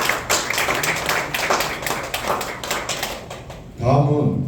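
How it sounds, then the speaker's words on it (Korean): Clapping from the audience at a Daejeon mayoral campaign pledge event, lively and uneven for several seconds, then a voice speaks over a fading patter. "박수 부탁드립니다."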